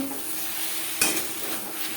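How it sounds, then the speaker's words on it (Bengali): Gathi kochu (taro) being sautéed with spices in a pan, a steady close sizzle with one sharp spoon clink against the pan partway through, no speech. "মশলার সাথে গাটি কচু তিন চার মিনিট কষিয়ে নেব"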